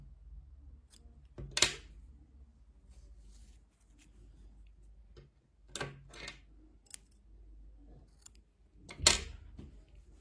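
Scissors snip through sewing thread after a seam is joined, giving three sharp, brief cuts spaced apart against a quiet background.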